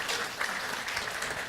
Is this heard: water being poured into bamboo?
no